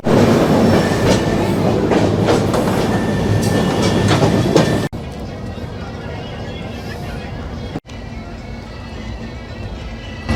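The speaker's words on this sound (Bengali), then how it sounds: "ট্রেন এখন মোরাদাবাদে এসে পৌঁছালো।" A passenger train runs on rails on arrival at Moradabad, with loud rumbling and rhythmic clickety-clack from the wagons close by, then a sudden drop to a quieter, steady rolling sound with a brief break partway through.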